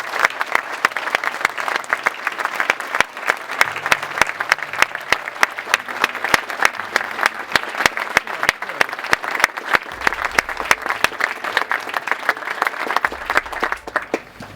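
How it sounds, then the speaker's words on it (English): At a retirement party, the audience gives a long, sustained round of applause that lasts nearly fifteen seconds. Many hands clap in a dense, lively patter, with faint murmurs in the room underneath. "I'd just like to give him a round of applause"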